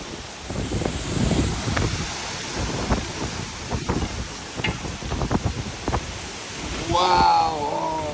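Squall wind storm over Lake St. Clair on July 4, with steady wind and rain roaring throughout, sharp gusts and rumbles, and a person reacting loudly near the end.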